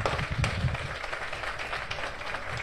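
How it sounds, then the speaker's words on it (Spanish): A second burst of applause comes from an audience at a raffle prize announcement. Scattered clapping mixes with low rumbling crowd noise at a fairly even level throughout. "¡Fuertes los aplausos, por favor, una vez más!"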